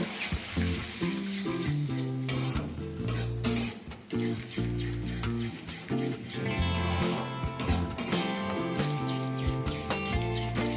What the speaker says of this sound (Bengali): ফ্লেমটা কমেতে রেখেই ভালোভাবে মশলার সাথে টক দইটাকে আগে মিশিয়ে নেব।